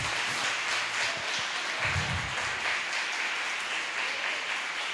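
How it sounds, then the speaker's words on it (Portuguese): A church congregation applauds steadily for several seconds, a dense, even wash of clapping filling the room, with a faint low voice or murmur briefly underneath. "Pode aplaudir ao Senhor."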